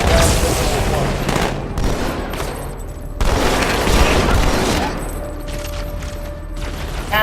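A grenade blast and rapid gunfire in the shooter game Halo 2 Anniversary. Dense, loud bursts of shots and booms run almost without a break, with faint talk underneath.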